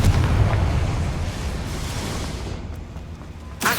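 Confringo blasting spell in the Hogwarts Legacy game, a loud, rumbling explosion that roars at the start and slowly decays, with a fresh sharp burst right at the end.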